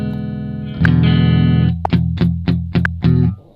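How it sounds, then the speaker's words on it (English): Electric guitar played through a slight, dry reverb giving a small room feel: a held chord followed by a run of sharp plucked notes, loud and alone with no talk. "I think it might be because I put this like this dry reverb."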